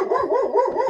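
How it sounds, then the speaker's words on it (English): A dog barks close to the ear, a single drawn-out, wavering yowl-like bark that warbles up and down for about a second. "Barking so lovingly in my ear."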